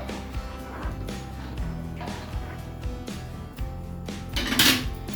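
A lid is set on a pot of masala khichdi with a bright metallic clank near the end, after a few lighter clinks of utensils against cookware.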